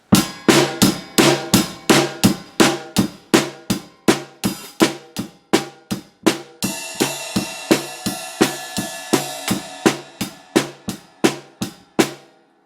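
A drum kit plays a quick, steady beat of sharp kick and snare hits, with cymbal wash joining in partway through, close and alone.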